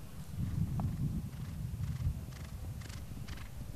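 A horse gallops across an eventing cross-country course, its hoofbeats thudding in a rough, rapid rhythm at a moderate distance, with outdoor rumble and no talk.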